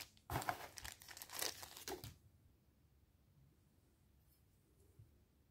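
Thin plastic bags crackle and crinkle loudly in quick bursts as a cutlery set packed in individual wrappers is opened, then fall away to near silence with faint handling.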